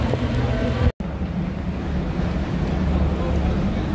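Aboard a sightseeing cruise boat on the River Thames, a continuous low rumble of engine and water mixes with wind buffeting the microphone, broken once by a brief dropout, with no clear speech.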